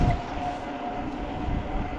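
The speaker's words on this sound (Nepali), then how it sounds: "ट्रेनको घन्टी सुन्नुभएको छ" A train runs past a level crossing in snowy Kermt-Hasselt with a loud, continuous, near rumble and a faint steady ringing tone above it.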